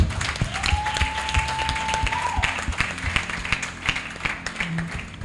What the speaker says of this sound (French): Est-ce que vous pouvez applaudir pour ces hommes qui nous aident?